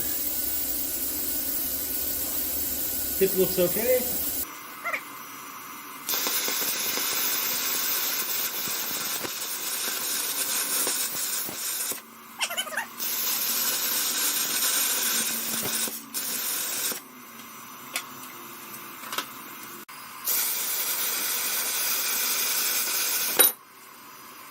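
A plasma cutter slices through an engine base plate during a Predator 212 engine swap onto a Polaris quad, giving a loud, steady hissing roar in several long bursts separated by brief pauses, with a short spoken remark beforehand.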